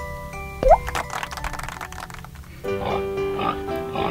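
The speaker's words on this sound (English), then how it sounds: "It's the pink pig!" A cartoon pink pig gives a short oink with a rising squeal, followed by bouncy, squishy cartoon sound effects and tonal chimes in a playful children's counting and colors setting.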